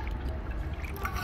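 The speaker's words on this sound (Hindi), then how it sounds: "ये पानी डाला" Water pouring into a bottle, a steady rushing gurgle with faint splashy trickles, close and fairly loud for about a second.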